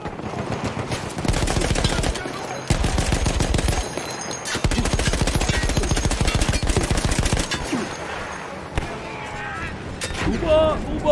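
A mounted machine gun in Battlefield 1 fires in long, rapid bursts broken by short pauses, loud and close, with distant battle noise behind the shots.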